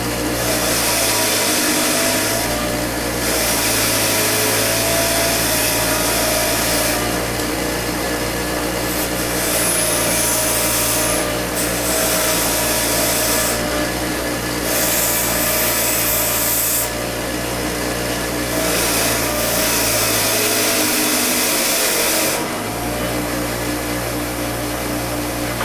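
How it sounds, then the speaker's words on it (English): A wire wheel spins continuously while toy Corvette parts are held against it for buffing and cleaning, a loud, sustained whirring grind with brief dips and scraping changes as the pieces are pressed and moved. "Get them on our wire wheel and get them buffed up"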